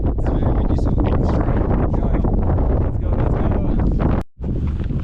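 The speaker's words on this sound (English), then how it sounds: "It's very windy" Strong wind roars steadily on a high mountain near the high camp, buffeting the microphone with loud, continuous gusts and a brief dropout near the end; people speak faintly beneath it.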